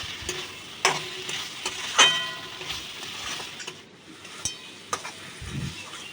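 Loitta (Bombay duck) fish with spices fry dry in a pan without water, a soft steady sizzle broken by sharp scraping stirs and clicks of the spatula against the pan.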